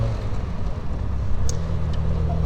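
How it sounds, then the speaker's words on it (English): Traffic on the A12 road sends up a steady, continuous low roar from a short distance away. It forms a dense rumbling bed with no voices over it. "The roar, if you can hear it, behind me is the sound of the A12."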